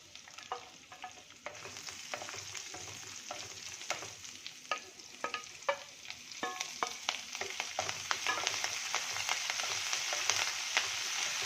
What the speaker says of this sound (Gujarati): આપણું જીરું ફૂટે એટલે આપણે લસણ લીલું મરચું અને આદું એ પણ ત્રણેય ઉમેરી દઈએ